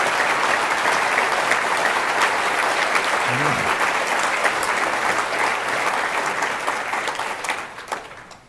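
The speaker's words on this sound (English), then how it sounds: "Please applaud everyone who's ever done anything like that" Audience at a Huntington's disease research forum applauding steadily, a dense loud wash of clapping that holds for about seven seconds before thinning and fading away.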